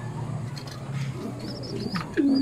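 Pet birds in a coop coo in soft, low murmurs, with a few faint chirps and rustles, and a louder coo near the end. Nobody speaks.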